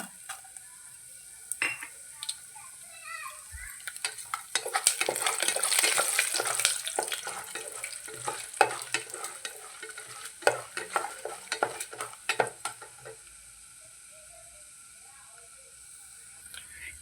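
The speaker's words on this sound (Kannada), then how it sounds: "ಈಗ ಸ್ವಲ್ಪ ಎಣ್ಣೆಲಿ ಹೀಗೆ ಫ್ರೈ ಮಾಡಿಕೊಂಡು" Chana dal and urad dal frying in a little oil in a pan, a steady sizzle and hiss with repeated scraping of a stirring spoon, loudest in the middle and fading toward the end.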